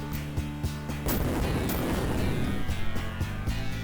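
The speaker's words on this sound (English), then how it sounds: "Dynamite, always proving infinitely useful." Dynamite detonates against rocks in the Sega game Comix Zone, a booming burst with crackling debris following a series of sharp rhythmic game sound effects, loud and without talk.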